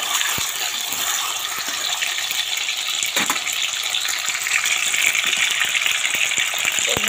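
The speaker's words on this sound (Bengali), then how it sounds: "লাল লাল করে পনিরগুলো ভেজে নেব লবণ হলুদ দিয়ে" Paneer sizzles in a hot pan with salt and turmeric, a steady, close crackling hiss that carries on throughout with scattered small pops.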